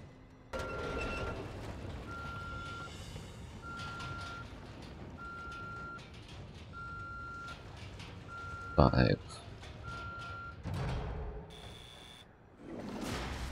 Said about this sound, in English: So once I hear the beeping, I'll shoot both bodies.